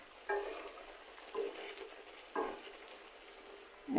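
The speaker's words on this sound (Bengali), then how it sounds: "এবার এই মশলাপাতিগুলোকে ভালোভাবে কষিয়ে নেব" Spices sizzling in hot oil in a pan while being stirred and fried for a Bengali beef curry with papaya, with soft crackling bursts that swell at a few moments and settle back to a low hiss.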